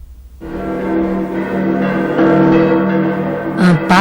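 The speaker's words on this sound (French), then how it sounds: "Les cloches de Saint-Germain-l'Auxerrois donnent le signal de l'assaut." Church bells of Saint-Germain-l'Auxerrois in Paris ring out in a dense, sustained peal that starts suddenly and keeps swelling, loud and close, with a brighter clang near the end and no speech.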